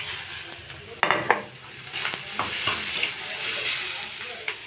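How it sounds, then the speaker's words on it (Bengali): Tomato goes into spice paste frying in a pan for a fish fry: a sharp burst of sizzling, then a steady fizz with occasional spoon scrapes and clinks, close and with no talking. "এখন আমি টমেটো দিয়ে দিব"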